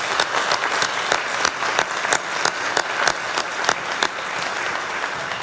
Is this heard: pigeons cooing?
no